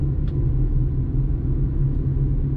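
A Hyundai Accent with an acceleration fault labours in third gear, giving a low, steady engine rumble that drones evenly throughout without rising in pitch, with one faint brief squeak near the start.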